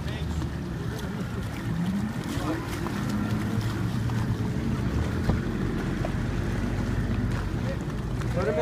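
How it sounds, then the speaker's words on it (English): Boat engine drone on the water at a spring fishing tournament takeoff, a continuous low rumble mixed with wind buffeting the microphone, with people talking over it. "Was that like a lot of boats out there."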